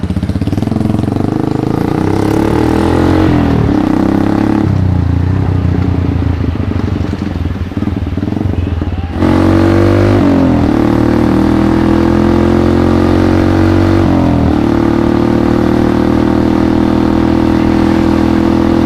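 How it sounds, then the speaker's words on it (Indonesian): A loud, close custom motorcycle engine drones steadily, dropping briefly to a lower idle before rising again as the bike moves along. "Gue sebenarnya ada takut sih bro naik motor ini."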